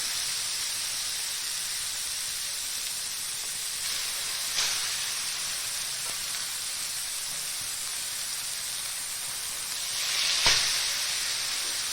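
Fish pieces fry in hot oil with a steady, close sizzling hiss and an occasional sharper spit or pop rising above the constant bubbling.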